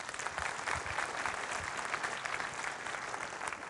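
An audience at Apple's WWDC developer conference breaks into brief, dense applause, a steady wash of many hands clapping at once with no speech over it.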